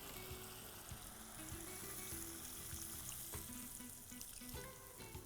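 Water is poured into a hot frying pan of chicken with chilli powder, turmeric, coriander powder and salt, giving a steady close sizzle and bubbling hiss with faint clinks, fairly quiet and without talk.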